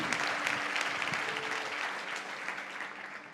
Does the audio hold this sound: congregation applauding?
yes